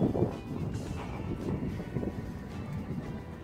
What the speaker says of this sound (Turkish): Bugün esiyor gerçi.